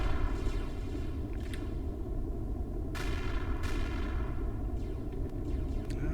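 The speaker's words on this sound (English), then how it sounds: "Something's still shooting back at me." Continuous rumbling gunfire from enemies shooting at a spaceship in a video game, steady and dense throughout with a few sharper bursts cutting through, alone without talk.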